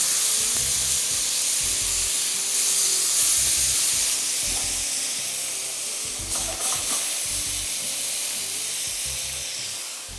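Chicken breast fillets frying in a pan give off a loud, steady sizzle that runs throughout, with occasional faint stirring clatter and no speech.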